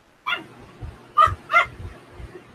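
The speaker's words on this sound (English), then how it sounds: "It was the puppy." A puppy indoors gives a short yip, then two sharper barks close to the microphone, with faint whimpering and low sounds between them.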